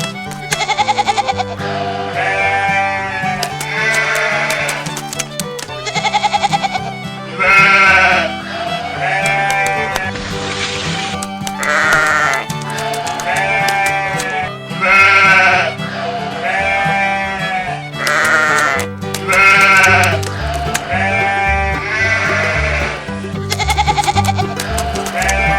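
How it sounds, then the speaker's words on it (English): Goats on a farm bleat again and again, loud and close, with many overlapping wavering cries in irregular bursts and no break for the whole stretch. "Here we have the goats."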